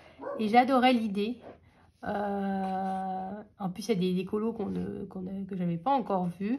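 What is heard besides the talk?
dog barking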